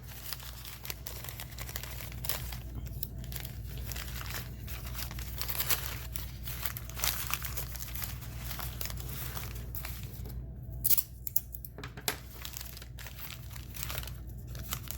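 Tape is pressed down over a 3D donut form in quiet, scattered crinkling and crunching, with occasional small tearing sounds through a soft background hiss.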